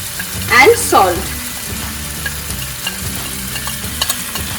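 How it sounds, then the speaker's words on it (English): Flat beans and boiled potatoes with turmeric and salt fry and get stirred in a pan for a Bangladeshi mash, a soft sizzle running throughout with a brief burst of scraping stirs early on. "the flat beans are slightly fried"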